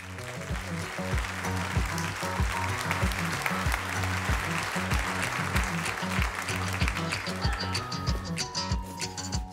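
A corporate event audience applauds to welcome the general director of Crédit Agricole Sud-Rhône-Alpes, a continuous wash of many hands clapping with a steady beat of music underneath, sustained and full.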